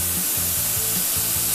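Airbrush spraying paint for a temporary face tattoo, a steady close hiss with faint rhythmic pulsing from the compressor underneath, continuous throughout.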